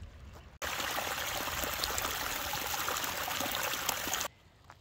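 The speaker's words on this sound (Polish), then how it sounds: "Tu jest mały strumyczek" Steady babbling of a small stream in eastern Turkey, water trickling and splashing continuously at close range, with no voices.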